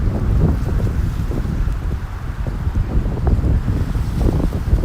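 Strong, gusty wind whips along the Narrows waterfront in Bay Ridge, Brooklyn, buffeting the microphone with a loud, low, uneven roar that swells and dips throughout, with no talking.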